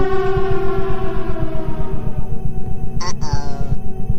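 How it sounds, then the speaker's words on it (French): A Silent Hill style air-raid siren from the video game Subject, a loud wailing tone over a pulsing rhythmic throb, with a short burst of noise near the end. "La sirène de Silent Hill"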